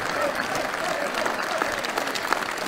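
Audience applause after the final of a short mat bowls tournament at the Norwegian Open, a steady dense clapping from an indoor crowd that carries on evenly throughout.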